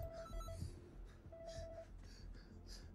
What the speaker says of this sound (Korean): 걸려오는 전화 한 통